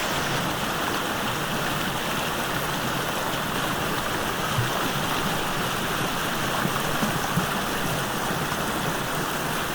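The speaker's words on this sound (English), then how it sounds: "in addition to the waterfall here, there's also another one over there." A waterfall in Ibigawa, Gifu, pours in a steady, dense rush of falling water, loud and continuous with no break.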